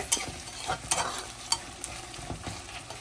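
Onions sizzle in a pan while browning for a chicken curry. A quiet steady fry runs throughout, broken by several sharp stirring scrapes and clicks of a spoon against the pan.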